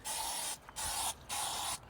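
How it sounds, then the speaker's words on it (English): Three short hissing bursts from an ant and roach spray can, aimed at ants in a generator, close and sharp, each lasting about half a second with brief pauses between. "Ant and roach spray."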